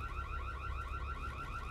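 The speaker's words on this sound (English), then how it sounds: "I'm sorry the alarm triggered." A car alarm blares in the GTA roleplay game, a steady, loud warbling electronic tone repeating rapidly and evenly from start to finish with nothing else over it.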